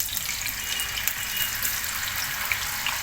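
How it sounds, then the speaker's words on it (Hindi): Cut potatoes frying in hot oil for sizzler biryani give a steady, close, dense sizzle with soft crackling throughout, no talking. "इसके अंदर पहले मैं जो ये बटाटे कट करके रखी हूँ इसको हम फ्राई करके निकाल लेंगे।"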